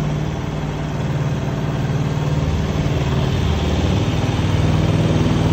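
A small boat's mud motor engine runs steadily and loudly at a constant droning pitch, close and continuous throughout with no voices.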